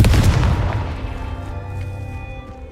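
The Confringo fire spell explosion from the video game Hogwarts Legacy: a single loud booming blast that decays into a lingering ringing tail over a few seconds.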